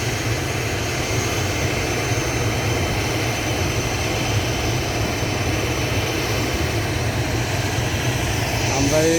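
An aircraft engine drones steadily on the runway, a loud continuous roar that holds even throughout and swells slightly at the end, heard from inside or close by.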